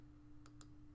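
Two quick, faint clicks of keys being typed on a computer keyboard, close, over a steady electrical hum, with no voices.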